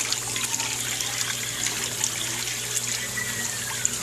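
A microbubble machine runs in a dog spa bath, producing a steady bubbling, trickling water hiss with a constant low motor hum underneath and occasional small splashes.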